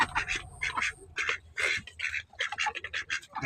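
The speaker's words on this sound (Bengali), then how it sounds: "হাঁসে আদার খাচ্ছে।" Several ducks from a small five-duck farm flock quack in short, uneven bursts while feeding on ginger, close and fairly loud, with pecking and shuffling noises between calls.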